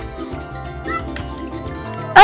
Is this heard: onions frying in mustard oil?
no